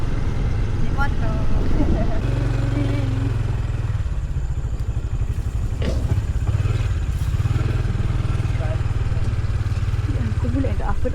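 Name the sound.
motorcycle engine running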